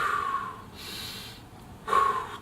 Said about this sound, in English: I go through this breathing routine that I learned from Tony Robbins. It's just a deep breathing